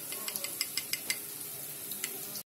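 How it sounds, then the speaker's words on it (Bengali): Sour yogurt (curd) thinned with a little water being whisked in a bowl for Katla fish kalia. Quiet, quick, rhythmic light clicks and taps that stop abruptly at the end. "আমি টক দইটা ভালো করে একটু ফেটিয়ে নিচ্ছি"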